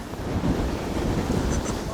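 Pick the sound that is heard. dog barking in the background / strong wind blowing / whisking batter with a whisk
strong wind blowing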